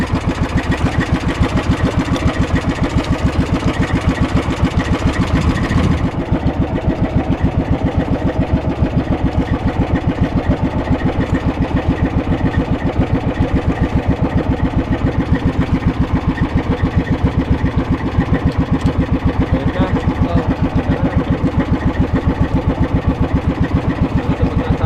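A fishing boat's engine runs steadily at sea after starting, a loud continuous chugging drone that holds an even rhythm for the whole stretch, with no voices over it.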